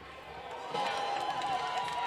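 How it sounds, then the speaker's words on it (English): High school football crowd cheering after a score, a broad roar that swells partway through and holds steady, with a voice talking over it. "You can hear the crowd on that score"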